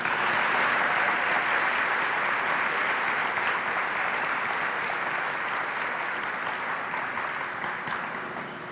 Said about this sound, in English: let's offer a round of applause to our support systems for pushing us through these years.